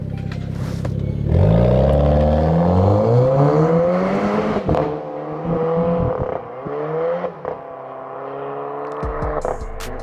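A Renault Clio 4 RS pulls away with its exhaust roaring, revs rising through a couple of gear changes, loud and close at first before easing off, with no talk over it.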